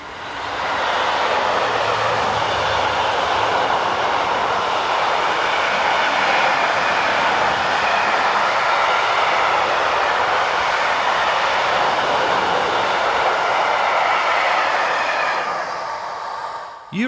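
A freight train hauled by 3-voltage locomotive 37033 passes on the Mâcon to Chalon-sur-Saône main line in France, a loud, sustained rushing roar of wagons at close range that holds steady for most of the time before fading at the end.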